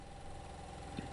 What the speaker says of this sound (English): Noisy train, isn't it?